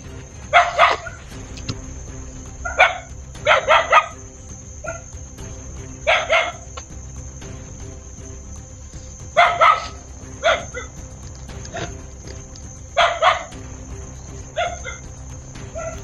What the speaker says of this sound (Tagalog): Siguro nagwawala na yung mga aso na yan.